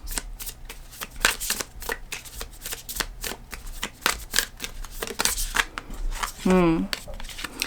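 Tarot cards being shuffled: a long run of close, crisp riffling and flicking bursts in a fast, irregular rhythm, with a brief vocal sound near the end.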